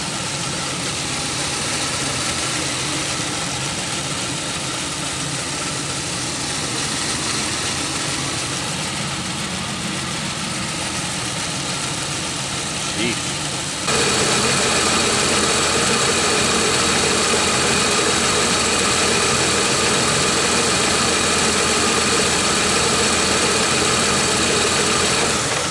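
A Pontiac Aztek engine idles steadily in a junkyard, a smooth continuous hum with no ticks or knocks, growing slightly louder and brighter about halfway through and then holding level to the end.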